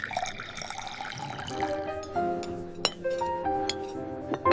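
Water is poured into a glass with clinks of glass, a bright trickling stream and a few sharp chinks, close and moderately loud in a quiet setting.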